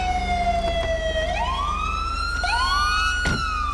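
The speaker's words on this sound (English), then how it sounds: "I don't know whose siren that is." Police car siren in the video game GTA 5, a loud wailing tone that falls, then rises again twice in sweeping cycles over a low rumbling engine.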